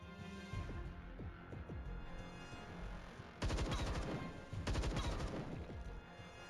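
In the video game Templar Battleforce, distant gunfire cracks sporadically before two dense bursts of rapid shots ring out, louder and tightly packed.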